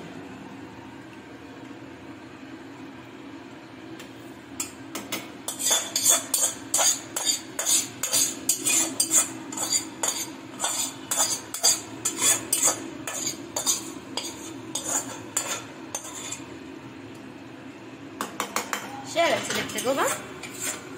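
Prawn malai curry made with giant freshwater prawns is poured out of a pot, with rapid repeated metal clinks and scrapes of utensils against the pot, pausing midway then returning, while a voice briefly speaks.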